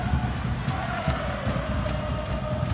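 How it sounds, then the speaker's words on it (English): A stadium crowd at an NWSL women's soccer match between Chicago Red Stars and NJ/NY Gotham FC keeps up a steady, broad roar of cheering and chatter, dense and continuous with no clear breaks. "The crowd really starting to get into things more."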